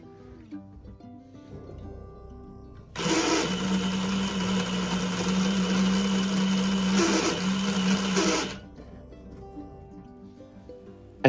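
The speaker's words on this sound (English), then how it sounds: "the motor does not sound very good at all" A Jaguar E-Type windscreen washer pump motor runs poorly on test for about five seconds, a loud, steady buzzing whir with a strong low hum that starts and stops abruptly, heard alone.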